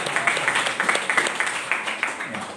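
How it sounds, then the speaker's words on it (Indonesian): Applause for a newly married couple at a wedding ceremony, a steady patter of many hands clapping together at moderate volume with a faint murmur of voices underneath. "Tepuk tangan saudaraku buat mereka."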